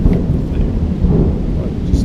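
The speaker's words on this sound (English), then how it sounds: "It's just starting to rain really hard." Heavy rain pouring down outdoors around a folding e-bike, a dense, loud, continuous patter and rumble with no breaks.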